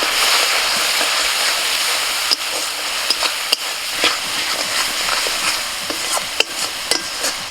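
Onion, tomato and spice paste with turmeric and chilli powder are stir-fried in a pan, giving a close, loud, continuous sizzle punctuated by frequent sharp clacks and scrapes from the spatula.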